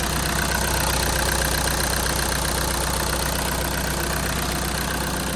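A 2.0 common rail TDI diesel in a VW Mk6 idles with a steady rhythmic clatter, close and continuous, with a constant low engine drone and no voices.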